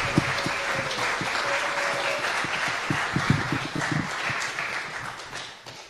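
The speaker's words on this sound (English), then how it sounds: "round of applause, please, for Mr. Marcus Allen" An audience gives a round of applause for a speaker being introduced, steady close clapping for about six seconds that thins and fades at the end.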